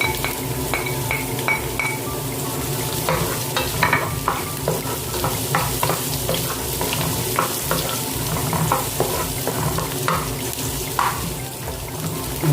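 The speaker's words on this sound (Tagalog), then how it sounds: "Ilagyan natin ng bawang." Garlic and ginger sizzle steadily in a frying pan for a crab coconut-milk dish, with repeated scraping and clinking of a utensil stirring through the hot oil, close and continuous with no talk.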